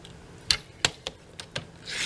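Paper cardstock being cut for handmade card making: several short, crisp rasping cuts spaced irregularly, close and moderately loud, with a longer scraping stroke at the end and no talking.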